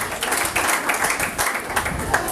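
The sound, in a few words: congregation applauding loudly for God's word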